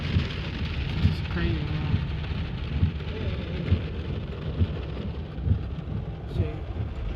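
Heavy rain pounds steadily on a moving car during a thunderstorm on the drive home, with low thunder rumbles underneath, while someone speaks briefly over the downpour.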